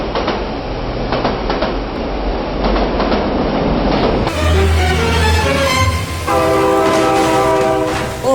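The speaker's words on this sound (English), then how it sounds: "Oh my god, train!" A train rumbles and clatters past close by, then its horn blasts loudly in a long sustained chord over the rolling noise, with no voices heard.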